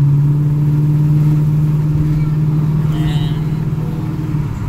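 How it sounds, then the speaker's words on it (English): Lexus ISF with its catalytic converter deleted, engine droning at a steady pitch from inside the car with a deep, constant rumble and hum that holds level rather than climbing. "put it under load going up a hill, and then a full throttle pull and see where the pressure is"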